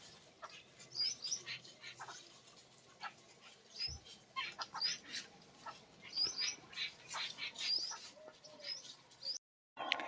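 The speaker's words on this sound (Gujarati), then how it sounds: "કેટલા બધા ચકલા આમ તો જોવો" Many sparrows chirp and squawk in quick, scattered bursts at a Mahadev temple in Patan, a busy high-pitched flock at moderate distance with no talking.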